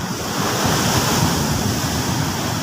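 Sea waves left by Typhoon Kristine roar as steady, loud surf close by, with wind buffeting throughout and no pauses.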